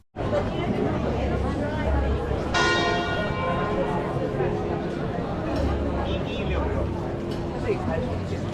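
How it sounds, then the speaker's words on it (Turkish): A church bell rings out in Kotor, Montenegro, with a bright struck tone that lingers, over a constant murmur of a crowd chattering nearby. "çan çaldı"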